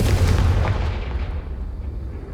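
A Confringo fire-blast spell going off in the video game Hogwarts Legacy: a loud, booming burst with a heavy low rumble that fades away over a couple of seconds, with no voices over it.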